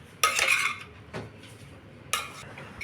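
A metal spoon scrapes and clanks against a pan in two short bursts of stirring rice with raw tamarind paste and tempering, with quiet pauses between, close by.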